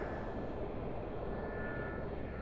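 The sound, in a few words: helicopter taking off in DCS video game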